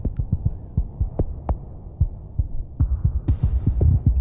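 A deep synthetic kick drum from a Y2K trance track thumps in a steady, quick rhythm, each hit blooming into a long washy reverb tail.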